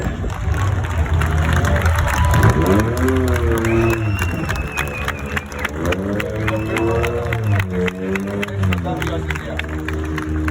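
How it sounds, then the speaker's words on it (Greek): Crowd applause and cheering at the EKO Rally Acropolis awards ceremony in Loutraki for a rally crew, sustained and full over several seconds, mixed with a tonal voice or music rising and falling on top. "θα τους χειροκροτήσουμε ακόμα μία φορά"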